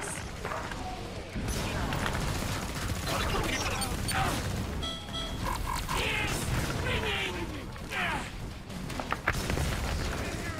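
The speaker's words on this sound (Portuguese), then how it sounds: "Eu joguei uma lança-granada e os drones deram um tiro." Grenade launcher blasts and drone gunfire in the Killing Floor 2 co-op game on the Black Forest map, a dense, loud mix of booms, shots and mechanical clatter running throughout with players talking over it.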